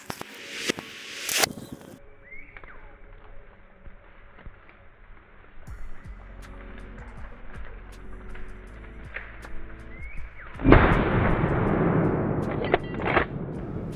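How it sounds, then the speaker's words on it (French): Rifle shot fired at a wild boar during a driven big-game hunt, heard as a sharp, loud blast early on and another strong burst later, with rustling and quiet outdoor ambience between. "il tire un sanglier qu'il arrivera à toucher"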